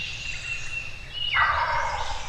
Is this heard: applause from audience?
no